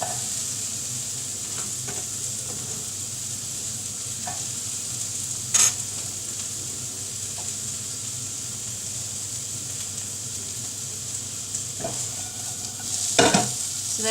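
Onions and leeks sizzling in a frying pan, a steady close hiss running throughout, with a few scattered clicks and a sharp spatula scrape near the end, and no talking.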